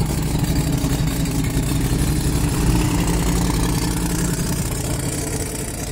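A car engine idles steadily at the SEMA show, a loud continuous low rumble with a slight swell midway and no voices over it.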